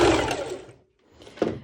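A sewing machine runs a quick binding stitch on fabric for a pole dance top, a short mechanical whir that stops, pauses in silence, then restarts briefly.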